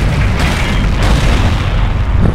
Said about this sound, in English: The Katusha is also firing at you.